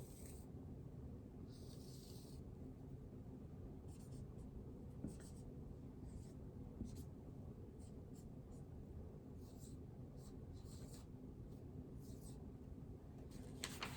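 A pen scratching steadily on paper while a math mat is drawn out for a kindergarten lesson: quiet, intermittent strokes in a hushed room, with no talking.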